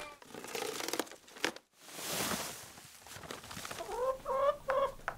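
Hens in a school barn cluck and murmur close by amid rustling and crinkling, with a brief hush midway before a run of clear, rising clucks near the end.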